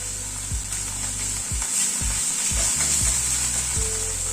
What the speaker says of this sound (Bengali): রসুন আর কাঁচা লঙ্কাটা দিয়ে একটু নাড়াচাড়া করে নিয়ে হাফ টিস্পুন আদা বাটা দিয়ে দিলাম।